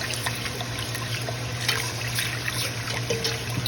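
Homemade gravy cooks on the stove while it is stirred, giving a steady wet, bubbling trickle with light scraping, fairly loud and close, with no voices.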